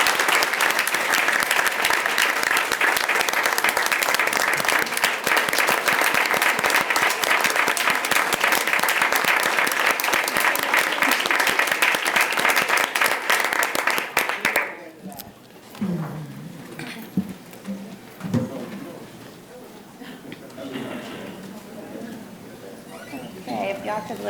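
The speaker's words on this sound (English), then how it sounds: "tonight I'd like everyone here to join with me in applauding these leaders for the work that they do" Audience at a Charleston County School District board meeting applauds district leaders, a loud sustained round of clapping that cuts off sharply midway, followed by quieter room noise and scattered talk.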